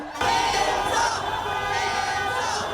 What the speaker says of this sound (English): Reporter Madison Forsey shows us the crowd that gathered in Greensboro